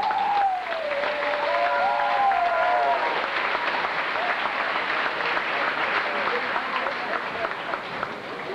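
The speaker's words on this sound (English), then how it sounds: "Let's give this students a round of applause." An audience applauds students at a school awards ceremony, a sustained wash of clapping with a brief whistle-like tone near the start and some background voices underneath.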